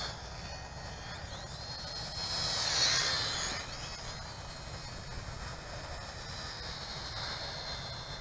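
An XK X260 RC quadcopter flies and descends, giving a steady whining buzz of motors and propellers that swells briefly as it passes closer, then settles into a continuous moderate drone outdoors.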